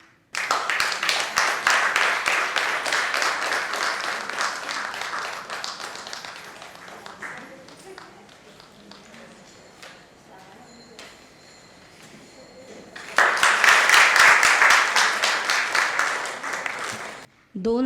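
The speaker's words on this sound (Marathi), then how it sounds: "चांगल्या टाळ्या होऊ द्या." An audience at a Marathi stage talk show claps for guest Kedar Shinde in two bursts, a long round at the start and a louder, shorter one near the end, with a quieter stretch between.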